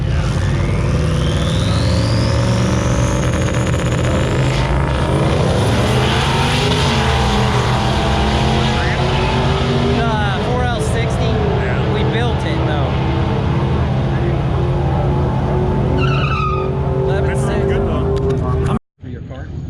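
A drag racing truck with a 5.3 engine at launch on the strip, a loud, continuous engine roar rising in pitch and sweeping away, with the engine breaking up and people talking amid it, ending in an abrupt cut.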